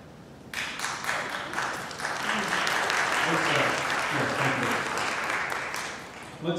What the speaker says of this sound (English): Let's hold the applause until the end of the question and answer, please.